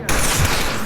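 A dense, loud burst of rapid automatic gunfire erupts in a video game, a sustained fusillade of overlapping shots filling the whole moment.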